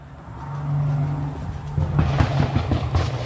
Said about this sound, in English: hear that car go by every day